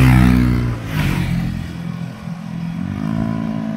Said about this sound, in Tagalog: Yung iba matutulin talaga magpatakbo yung mga motor